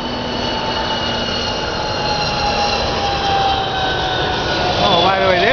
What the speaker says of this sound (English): There's a plane going into LAX.